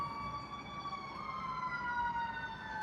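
An emergency vehicle siren wails outside a parked car, a faint, steady, tonal siren with a slowly drifting pitch over low road rumble.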